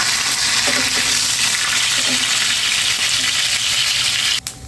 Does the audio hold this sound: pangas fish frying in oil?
yes